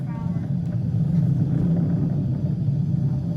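A SpaceX Falcon 9 rocket climbs through launch after going supersonic, its engines giving a steady, heavy low rumble that holds throughout, with faint voices over it.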